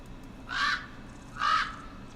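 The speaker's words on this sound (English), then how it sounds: "Now I'm doing a crow sound effect." Two raspy caws from a crow in the Lord of the Rings Online video game, about a second apart, fairly loud over a low steady background hum.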